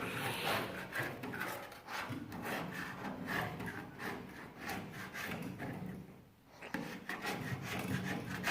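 Steady rough scraping and rasping of paint being stripped off an Austin 1800 car, close up, in repeated strokes with a brief pause near the end; no talking.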